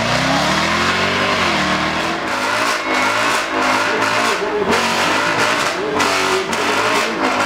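Ford Mustang with a 5-litre supercharged V8 accelerating hard at a supercar event, a loud, close engine howl with rising and falling revs across repeated gear changes, alone without voices.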